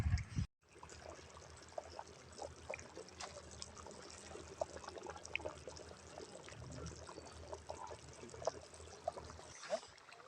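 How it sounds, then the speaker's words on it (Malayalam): Hot water pours into a pot of Kerala-style beef bone curry, a steady close trickle and splash running for several seconds after a brief silence, with faint kitchen clatter around it. "ഇതിനകത്തോട്ട് കുറച്ച് ചൂടുവെള്ളം ഒഴിച്ചു കൊടുക്കുക"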